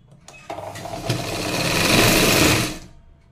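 An electric sewing machine stitches a padded blouse, a short run of rapid, close stitching that speeds up to a steady whir and then stops.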